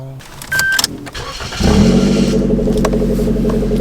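A Suzuki Jimny Sierra engine starts up and settles into a steady, loud exhaust rumble heard from inside the car, with a person speaking briefly just before.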